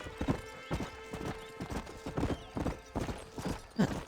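A horse's hooves clip-clop in Red Dead Redemption, a steady rhythmic trot of distinct, fairly close hoofbeats, with a brief snort near the end.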